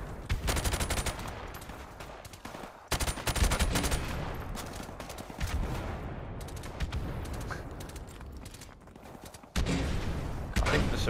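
Unsuppressed gunfire in Call of Duty 4: Modern Warfare, loud bursts of rapid automatic fire with short pauses between volleys and a few faint voices in the background.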